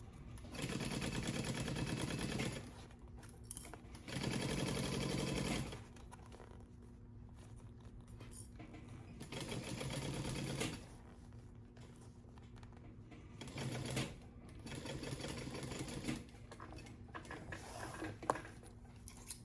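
A sewing machine back stitching seams on a convertible crossbody bag, running in several short bursts of steady mechanical whirring separated by quiet pauses, heard close up without talk.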